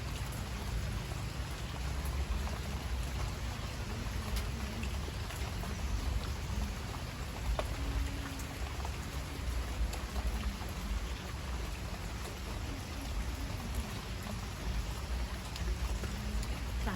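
Rain falls steadily in a continuous broadband hiss that holds an even, moderate level throughout, with a faint low rumble underneath and no voices.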